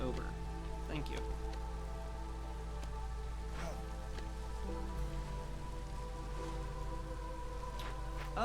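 Soft drizzle patters steadily in the video game Against the Storm, a faint continuous rain hiss with scattered drops and no talk.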